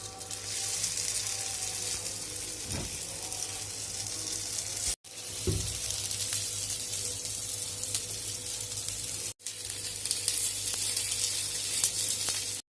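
Corn flour batter sizzles in hot oil in a kuzhi paniyaram pan, a continuous bright hiss that runs steadily close by, broken twice by brief cuts, with a few faint knocks underneath.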